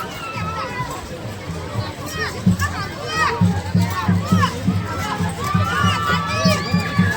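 Dense village fair crowd near the Modhera Sun Temple keeps up a steady hubbub, with children shouting and calling out over it and a person talking nearby.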